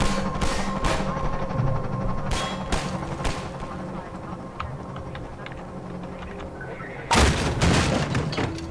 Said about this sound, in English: Shooting at us from the street now down there.